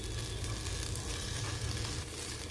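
Curry leaves sizzle and crackle in hot oil during Kerala-style cooking, a steady dense frying hiss that holds close and fairly loud for the whole stretch, with no voices.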